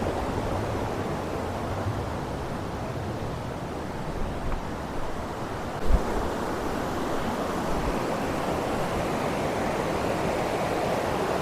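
Rushing water of Sunnapugedda waterfall in Srikakulam, a steady, loud broadband roar that stays constant throughout with no voices over it.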